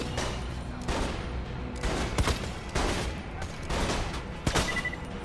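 Rapid gunfire in the video game Borderlands 2, repeated bursts of shots in quick succession with sharp cracks over a busy game backdrop, steady and moderately loud.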